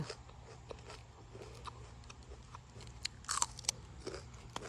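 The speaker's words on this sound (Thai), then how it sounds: "จะลองกินอันแก่ๆให้ดู อร่อยไหม เพื่อนกินได้นะมีเม็ดข้างใน" Crunchy bites and chewing of mature sugar snap pea pods with seeds inside, fresh-picked from a garden, close and fairly quiet, with a few sharper crunches near the end over a steady low background hum.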